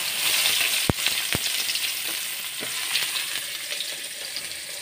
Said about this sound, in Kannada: ಅದಕ್ಕೆ ನೋಡಿ ನೀರುಳ್ಳಿ, ಇದನ್ನು ನಾವು ಒಗ್ಗರಣೆಗೆ ಹಾಕ್ಕೊಳ್ಳುವ.